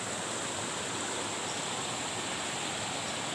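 A large river rushes loudly and continuously nearby, a steady dense roar of flowing water with no voices.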